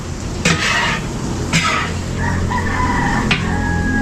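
A chicken caught for a Christmas party cooking session crows and clucks in a few close, loud bursts, with sustained crowing tones toward the end over a steady background hum.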